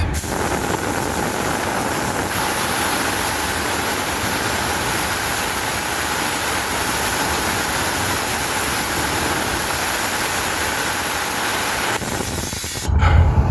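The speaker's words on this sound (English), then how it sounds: "the very first thing you want to do is empty the air tanks, because there's the pressure" Compressed air blasts out of a Volvo truck's air tanks as they are drained, a loud, steady, broadband hiss held close for about twelve seconds before it cuts off and leaves a short low thump.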